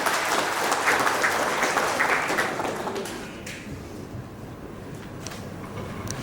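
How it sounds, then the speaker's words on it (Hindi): A crowd claps steadily for a few seconds at an Engineers' Day event in Ranchi, then the applause thins out and fades to scattered claps in a quiet hall. "जोरदार तालियां"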